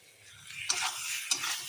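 Kashmiri chillies sautéing in a hot pan, a continuous close sizzle broken by two sharp stirring scrapes, with no voices.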